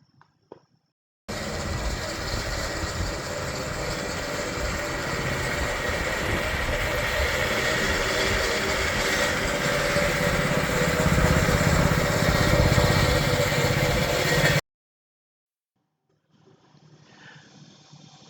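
A lawn mower cuts Bermuda grass very low, at about half an inch. Its engine starts abruptly and runs as a loud, steady drone for about thirteen seconds, then stops into near silence before a faint murmur returns.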